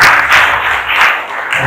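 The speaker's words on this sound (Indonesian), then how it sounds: "Tepuk tangan buat Pak Agung Buana, Bu Dani, Pak Gus Saiku" At a book discussion event in a Malang library, the audience bursts into loud, close applause, a dense clatter of many hands that swells and eases slightly in waves.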